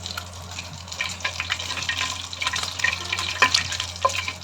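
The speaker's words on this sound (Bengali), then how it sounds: "আমি এই গরম তেলে 2টি তেজপাতা ছিঁড়ে দিয়ে দিলাম, এলাচি দিলাম, দারুচিনি দিলাম আর 3টা লং দিলাম" Bay leaves, cardamom, cinnamon and cloves fry in hot oil with a steady crackling sizzle and a low constant hum beneath it, with occasional sharper pops.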